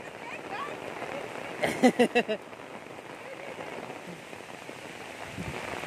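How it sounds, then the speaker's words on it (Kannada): Heavy rain pours down in a steady, dense hiss that fills the whole scene, with a brief burst of voices rising over it partway through. "ಎಷ್ಟು ಜೋರಾಗಿ ಮಳೆ ಬರ್ತಿದೆ ನೋಡಿ."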